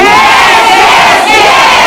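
A studio audience at a TVRI Sumatera Selatan variety show, Gayung Bersambut, cheers and applauds loudly in a dense, continuous roar without a break.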